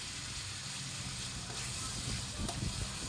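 Onions sizzling as they fry in a pan, a steady broadband hiss throughout with a slight flare of crackle near the end, close and fairly loud.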